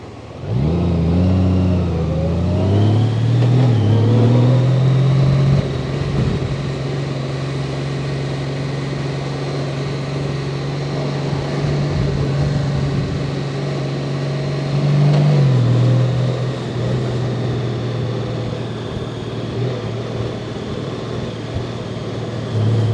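A 2021 Honda Gold Wing DCT motorcycle engine drones steadily while riding along the coast, with rising revs at the start and another shift midway, loud and continuous with wind noise.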